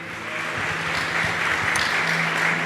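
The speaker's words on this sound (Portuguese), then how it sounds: "Você pode dar uma salva de palmas a Cristo Jesus por nossa comunidade" Steady, continuous applause from a congregation at a Sunday family worship service, a dense wash of clapping at even loudness with no speech over it.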